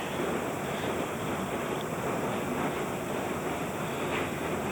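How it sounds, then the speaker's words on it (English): An ink roller is worked back and forth over a sheet of plexiglass, giving a steady, close, sticky hiss that continues without a break. "What I'm doing right now is rolling a thin layer of ink out on a sheet of plexiglass."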